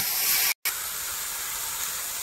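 Eggplant and prawns fry in a pan with a steady, close hissing sizzle that stops briefly for a moment, with no talking.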